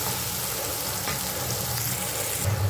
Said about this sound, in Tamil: தக்காளி பழம் நல்லா வெந்து வருது